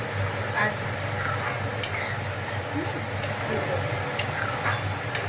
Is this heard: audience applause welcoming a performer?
no